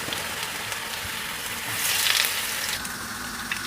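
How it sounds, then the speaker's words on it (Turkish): Potato fingers frying in a small amount of oil in a pan: a steady, close, crackling sizzle throughout, briefly swelling louder midway, with no voices. "Parmak kebabımız için patateslerimi parmak şeklinde doğradım. Çok az yağda, çok az kızartacağım."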